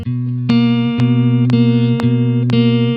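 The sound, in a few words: RC20 wobble effect making lo-fi beat sound like warped vinyl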